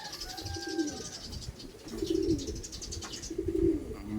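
Racing pigeons, a blue bar and a red, cooing back home at the loft after a one loop race, soft low repeated coos close by with faint chirps in the background.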